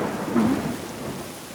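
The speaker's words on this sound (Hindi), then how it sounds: "बारिश बहुत हो रही है, अब सारा पानी बाहर निकालना होगा।" Heavy rain pours in a steady roar while thunder rumbles low and close, swelling briefly before settling back under the downpour; no one speaks.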